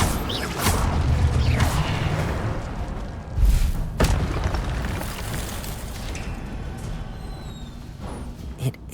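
An Incendio fire spell cast in the video game Hogwarts Legacy, a burst with a whooshing, booming thump, set among ongoing game sounds with no talking.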